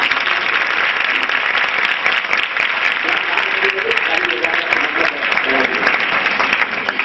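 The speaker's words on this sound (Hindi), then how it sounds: "इसके समान में तालियां होनी चाहिए।" Dense, steady applause from a school audience at a girls' school event, loud and continuous throughout with a faint voice underneath.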